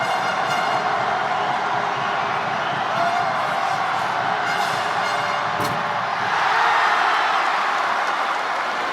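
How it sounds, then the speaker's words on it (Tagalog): Noisy arena crowd at an MPBL basketball playoff division finals game between Quezon and Biñan, a sustained roar of cheering and applause filling the whole stretch, swelling slightly near the end. "Ingay ng crowd natin."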